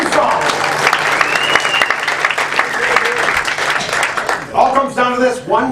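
Audience applauding after a song performance at a holiday stage show, dense continuous clapping with some crowd noise, a speaking voice coming in over it near the end.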